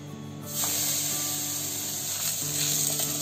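Oil poured onto a hot pan hisses into a loud, steady sizzle under a vegetable bhakri frying on the stove, the sound continuing unbroken with a few faint clicks.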